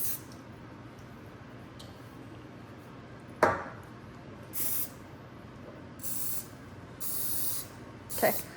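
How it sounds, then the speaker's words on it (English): Cooking spray from a can in a home kitchen, several short hissing bursts of about half a second to a second each, spaced apart, over quiet room noise with a thump. "Is this cooking spray?"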